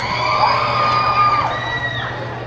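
Crowd at a live concert during the Allacapan patronal town fiesta cheers loudly and close, with high whoops and shouts riding over a dense wash of noise and possible clapping.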